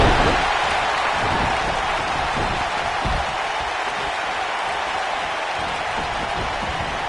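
WWE 2K19 wrestling video game arena crowd gives a steady, loud roar of cheering throughout, broad and continuous with no voices standing out.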